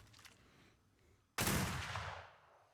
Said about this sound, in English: let's launch Boggett from the cannon